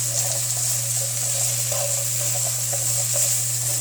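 Onions frying in oil in a pan for beef stir fry give a steady, hissing sizzle with a constant low hum underneath, no talk.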